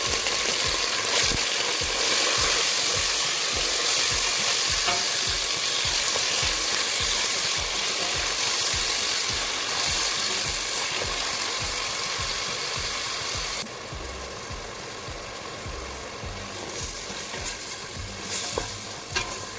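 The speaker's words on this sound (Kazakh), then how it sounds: "алдын ала жуып тазартып, турап алған етімізді қуыратын боламыз" Chopped beef fries in about 60 ml of hot oil in a pot for a classic beef goulash, a loud dense sizzle with rhythmic stirring scrapes throughout, close up, settling slightly quieter toward the end, with no talking.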